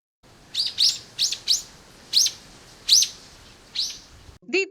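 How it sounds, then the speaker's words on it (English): A small bird chirps in short, high, bright bursts, about seven calls spaced irregularly over steady quiet background hiss. "chirped means to make a short, high-pitched sound like a small bird or insect"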